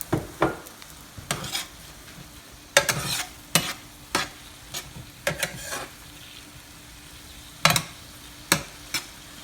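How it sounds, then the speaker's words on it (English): Sun-dried tomatoes cooking in a simmering Tuscan shrimp sauce, a steady sizzle and bubble underneath repeated clear scrapes and knocks of a spoon stirring the pan, close and fairly loud, no voices. "while these are simmering some, I'm going to add the sun-dried tomatoes. Let them cook for a while."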